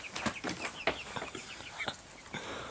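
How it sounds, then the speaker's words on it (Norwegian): Young backyard chickens, still too young to lay, cluck and chirp in short irregular bursts at close range while out on a walk outdoors, with faint human sounds in the background. "Ja, nå er jeg på tur med hønene."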